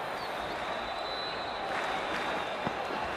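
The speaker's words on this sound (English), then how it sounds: "We're about to get underway and already the crowd is up and about." A cricket stadium crowd at an India vs Afghanistan T20 match makes a steady, dense roar of cheering and applause that holds throughout, with a brief louder burst at the end.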